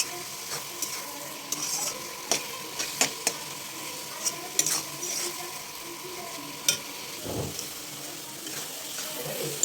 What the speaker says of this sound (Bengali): আমি একটু নেড়ে নেড়ে এটাকে ভালো করে মিশিয়ে নেবো